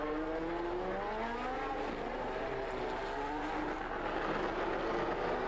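Historic pre-1977 Grand Prix race cars, including a March 711 and a BRM 201, drive a dry, sunny practice session at Monaco, with engines roaring and shifting pitch continuously and loudly throughout.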